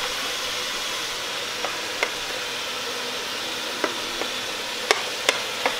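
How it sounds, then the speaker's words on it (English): Ground meat and onion browning in a pot for lasagna sauce, with a soft continuous sizzle and occasional sharp clicks and taps of a utensil against the pot, and no talking. "we're gonna cook this down until the meat is fully brown and the onion is cooked down a little bit and translucent"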